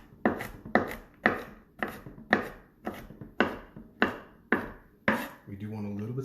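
A knife rough-chops food on a board with about ten sharp, evenly spaced thuds, close and crisp, followed by a short burst of speech at the end.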